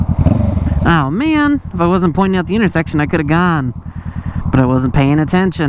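A rider talks steadily over a motorcycle engine that hums and rumbles underneath the voice throughout, with the machine's noise held mostly in the background.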